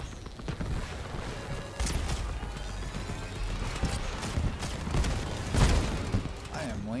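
Vehicle-mounted guns fire in Crossout, the armored car combat game, in dense overlapping bursts amid a busy mechanical battle din, loud and continuous with a few sharper impacts standing out.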